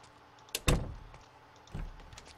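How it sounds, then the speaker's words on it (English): A door shuts in Project Zomboid with a quick latch click followed by a solid thud, then a softer second knock a moment later against a quiet background. "Just gonna close the door."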